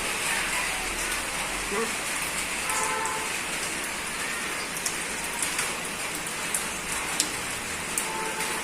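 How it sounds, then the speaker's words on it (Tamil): Steady rain falling and pattering on surfaces, a dense continuous hiss with occasional sharper drips, close by. "இப்ப மழை பெய்யுதுல"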